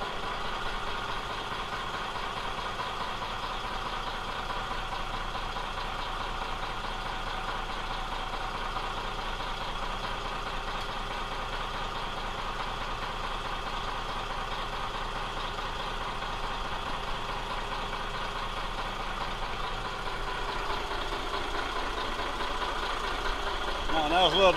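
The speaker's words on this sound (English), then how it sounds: "The boat sits here in idle at the dock." A steady, low boat engine idle at a dock rumbles continuously at close range, unchanging for most of the stretch and growing slightly louder near the end.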